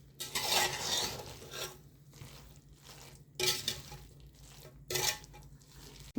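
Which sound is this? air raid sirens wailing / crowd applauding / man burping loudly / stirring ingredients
stirring ingredients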